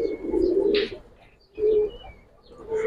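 Pigeons coo nearby in soft, throaty, repeated phrases with short pauses between them, and faint chirps mixed in.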